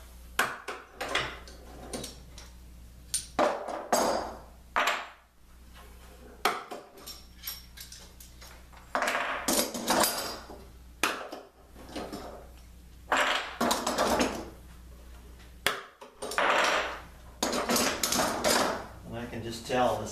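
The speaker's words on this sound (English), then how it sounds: "All right, clamps are coming off." Clamps come off a freshly glued wooden pub table in a workshop, giving a string of separate knocks, clunks and metallic clatters in irregular bursts, close and fairly loud, with someone talking between them.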